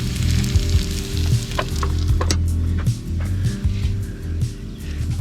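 Tomato and onion caramelising in beef fat over a camp stove outdoors while car camping in the Welsh valleys, a steady close sizzle and fry with a low hum underneath and occasional scraping stirs.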